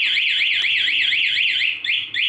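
Honda MSX motorcycle alarm sounding outdoors, a loud continuous warbling electronic siren that sweeps up and down in a steady cycle, heard alone with a short break near the end.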